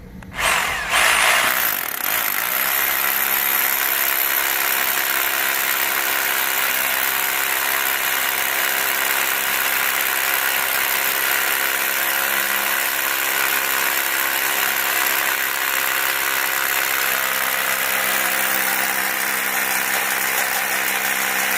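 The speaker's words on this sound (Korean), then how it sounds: "여기다 대고 구멍을 뚫어줍니다" A power drill bores a hole to set a square steel pipe column for a warehouse base plate, a steady loud whirring drone that starts abruptly and holds continuously with no talk.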